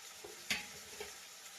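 Crushed black pepper hits hot oil while making rasam, making a short, sharp hiss that settles into a quiet, even sizzle with a few faint crackles, close by and without talk.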